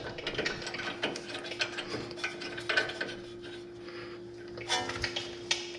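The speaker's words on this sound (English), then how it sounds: "they're designed to accept a 3/8 ratchet. Then you just tighten it until it pops loose." A 3/8 ratchet clicks in quick repeated strokes, tightening a steering puller on a 3rd-generation Toyota 4Runner; close, crisp pawl clicks with slight metallic rubbing in a garage.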